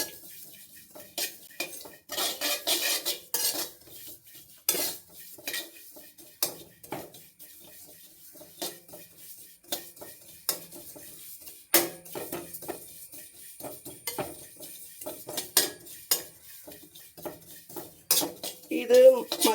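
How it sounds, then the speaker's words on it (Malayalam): Fenugreek seeds are dry-roasted in a metal pan and stirred with a spoon, giving repeated scraping clinks and rattles of utensil on pan, irregular and fairly close, with only a faint sizzle beneath. "ഇതും അതുപോലെ വറുത്തെടുക്കുക വറുത്തെന്ന് പറഞ്ഞാൽ ഇത് ഒരു പൊടിയാൻ മാതിരിയുള്ള രീതിയിൽ വറുത്താൽ മതി"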